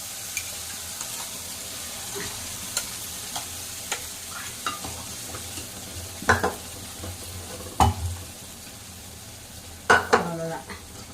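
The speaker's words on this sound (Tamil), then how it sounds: "இப்போ இந்த தேங்காய் வந்து கொஞ்சம் எண்ணெயில் வதங்கட்டும்." Grated coconut and fig sautéing in oil in a home kitchen, with a soft continuous sizzle under repeated scraping stirs of a spatula against the pan, a few louder clanks near the end.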